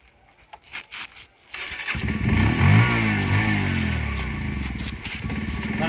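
After a few quiet knocks, a motorcycle engine catches and roars up loudly, then settles into a rough, steady revving idle close by during an outdoor comedy shoot.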